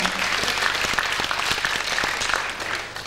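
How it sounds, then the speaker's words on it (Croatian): Steady, full applause from a concert audience at a 1994 music festival in Split, continuous crowd clapping that holds for about three seconds with no one speaking. "Njima zajedno jedan veliki dobri aplauz."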